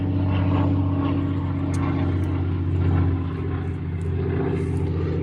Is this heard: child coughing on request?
no